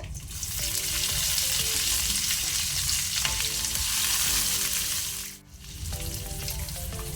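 A large onion frying in a pan with garlic over low flame crackles in a strong, steady close sizzle, briefly dipping near the end before resuming, with faint clinks; no speech.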